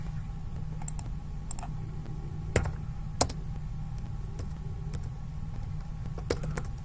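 Computer keyboard typing runs steadily throughout, soft quick key clicks with a few sharper taps standing out against a low background hum.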